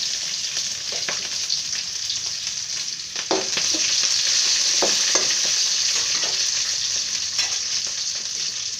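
Green chillies fry and are stirred in a pan while cooking gongura rice, a steady loud sizzle with scraping stir strokes throughout and no talking.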